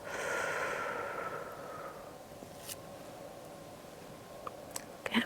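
A long, soft breath is drawn in and let out during a medical cranial nerve exam, a broad airy exhale fading over the first two seconds, then near-silence broken by a few faint clicks.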